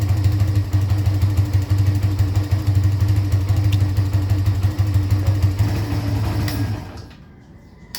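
A Barako 2 motorcycle engine, 2025 model, idles close by with a steady, loud, low chugging putter and a faint hum above it. It runs evenly for about seven seconds, then cuts off into near silence.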